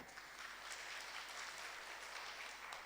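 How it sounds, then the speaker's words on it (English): Audience at a public financial management presentation clapping for the speaker, a steady, fairly quiet patter of many hands that holds evenly for about three seconds. "let's appreciate the speaker kindly with a clap"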